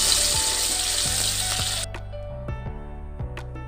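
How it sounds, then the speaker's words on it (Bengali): Hilsa fish pieces fry in hot oil in a wok with a loud, dense sizzle that cuts off partway through, followed by a few sharp clinks and taps nearby; no one speaks. "এবার এক এক করে মাছগুলো আমি ভেজে নেব"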